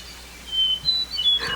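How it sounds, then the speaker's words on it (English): Two hermit thrushes sing in Maine's 100-mile wilderness, clear high whistled notes and short phrases trading back and forth at moderate distance over a quiet forest background, no voices. "listening to a duet between two hermit thrushes"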